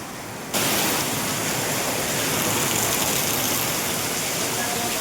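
After a slightly quieter opening, heavy rain over a cricket match surges into a louder, unbroken wash of pouring and splashing water that stays strong and close to the end.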